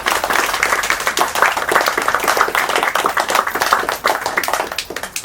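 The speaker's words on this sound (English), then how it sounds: "So please, let's have a round of applause for all of you." A crowd at a youth event claps in a loud, close round of applause, with individual hand claps standing out in a brisk, continuous patter and no talk.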